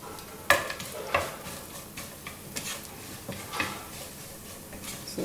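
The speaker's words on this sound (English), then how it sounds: "I'm adding in some mustard seeds, fenugreek, cumin and this vadagam" Mustard seeds, fenugreek and cumin sizzling in hot oil, a steady crackle dotted with sharp pops and ticks, some louder near the start, close and moderately quiet.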